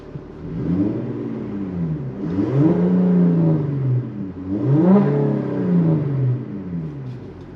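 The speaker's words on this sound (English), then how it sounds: "Even though I'm in a diesel, this car does have an aftermarket exhaust." Audi A7 diesel with an aftermarket exhaust starting up and then revving twice, each rev a loud, aggressive rising and falling roar heard close by.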